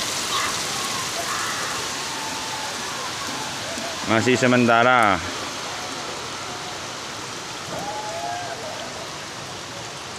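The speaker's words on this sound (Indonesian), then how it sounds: "Ya tambah hujan." Heavy rain pours steadily during a flood in Sampang, Madura, a dense continuous hiss that carries on throughout, with a short burst of voices and a brief tonal sound near the middle and more talk later.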